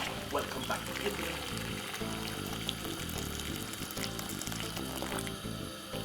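Boiling water, about 3 cups, pours steadily in a continuous splashing stream, moderately close, with a faint background hiss.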